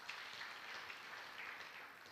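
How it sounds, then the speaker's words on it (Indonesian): A church congregation claps together in a sustained, even patter, heard faint and distant, with no voices over it. "Tepuk tangan dulu buat Tuhan Yesus"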